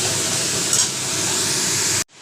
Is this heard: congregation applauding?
no